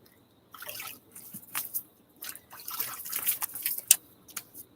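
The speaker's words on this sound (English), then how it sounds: "Water just flying everywhere." Water flicking and splattering off a wet shaving brush during a wet shave, in short irregular bursts of spray and drips, fairly close and moderately loud.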